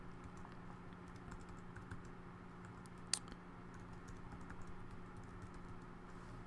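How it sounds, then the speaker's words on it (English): Fingers type a username and password on a computer keyboard, producing a quiet, close run of irregular key clicks with one sharper tap near the middle and no speech. "So let's go ahead and type in our username and password."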